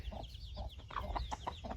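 Farm chickens, a hen and a young rooster, give a string of short, close clucks in quick succession over a steady outdoor background hum.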